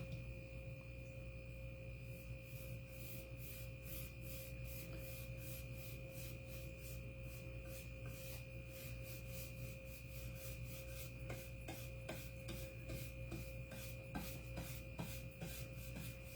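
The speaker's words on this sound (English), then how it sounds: "And now, let's do the back. And it will be totally painted." A brush strokes paint onto the back of a wooden farmhouse-style towel holder, giving a steady, repeated soft rubbing close by over a constant background hum, with no talking.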